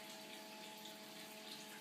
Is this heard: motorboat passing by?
no